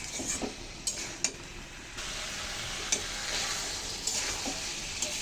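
Soybean chunks sautéing in oil in a pan, a steady sizzle with a spoon stirring and scraping, bright clinks against the metal at intervals, close and alone with no talk.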